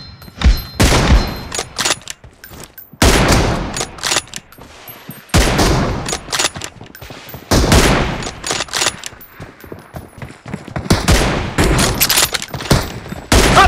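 Gunfire in a PUBG match: loud bursts of rapid automatic shots and single cracks in clusters separated by brief pauses, close and punchy.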